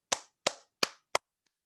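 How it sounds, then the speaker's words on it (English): Four separate sharp hand claps in an online meeting, evenly spaced about a third of a second apart, close and crisp with short decays, followed by silence. "let give us a round of applause for him"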